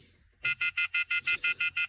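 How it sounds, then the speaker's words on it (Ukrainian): A phone alert rings close and clear during Mazda 5 diagnostics, a rapid series of about ten evenly spaced electronic beeps after a short quiet start. "Сигналізує мені телефон, щоб я не забув забрати."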